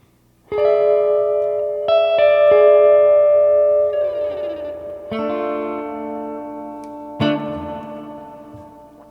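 Electric guitar played through an Onerr DD-1 digital delay pedal with reverb on, ringing chords and single notes sustaining and washing into a lush tail, loud and close with no talking.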